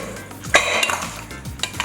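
Green seasoning worked by hand into meat in a bowl for Trinidad breadfruit oil down and curry cascadoo, with light clinks of utensils and dishes, a sharp knock midway and soft mixing sounds close by.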